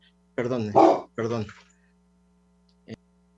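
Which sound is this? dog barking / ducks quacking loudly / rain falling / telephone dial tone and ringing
dog barking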